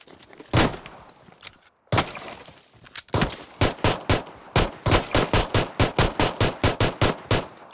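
Loud video game gunfire from an M4 rifle: a few scattered shots, a brief silence, then a rapid, evenly spaced burst of sharp automatic rounds, close and dominant with no talking.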